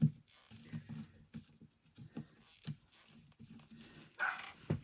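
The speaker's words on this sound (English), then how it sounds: "my doggies are barking" Several dogs bark and yip in short bursts, fairly close, with a brief whimper among the barks.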